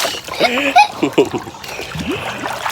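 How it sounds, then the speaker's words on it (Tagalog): Water is poured over someone at a pool, splashing and dribbling in short bursts, partly mixed with nearby voices calling out. "Lagi na ako binubuhusan ng tubig."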